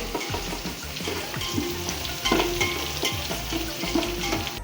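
Onions frying in a pot for a Kasaragod-style fried-chicken biryani give a steady, close sizzle, with repeated stirring scrapes and clinks running through it.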